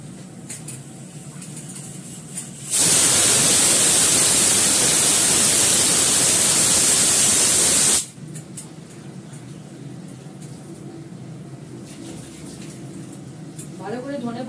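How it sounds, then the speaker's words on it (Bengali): Coriander leaves are washed in a bowl of water on a kitchen counter while a cook talks, with a loud, steady rush of running water lasting about five seconds before it stops abruptly. "ভালো করে ধনে পাতাটা ধুতে হবে।"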